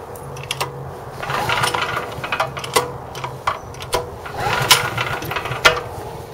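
A Harbor Freight 13hp 5500W generator is pull-started, with a series of sharp clicks and rattling tugs over a low mechanical whir, close by and moderately loud, while the engine does not catch.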